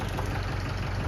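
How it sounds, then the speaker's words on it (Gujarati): A tractor engine idles with a steady, close, low rumble and rough knocking throb during unloading of a trailer load of blocks, unbroken for the short moment with no talk. "અને હવે ટ્રેક્ટર ઠલવી નાખવાનું છે."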